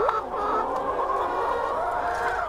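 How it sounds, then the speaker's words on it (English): Chickens cluck and squawk continuously on a chicken farm near Nairobi, Kenya, a dense, fairly loud chorus of many birds close by with no talk. "Next, we visit a chicken farm near Nairobi in Kenya."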